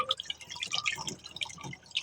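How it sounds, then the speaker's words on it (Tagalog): Water drips and splashes into a cooking pot holding mung beans, a scattered patter of small drops close by with no talk. "Naglagay na rin po ako ng tubig sa kaldero mga ka-hearts at sinabay ko na rin po yung munggo"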